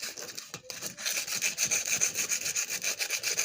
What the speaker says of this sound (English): I'm going to sand on this a little more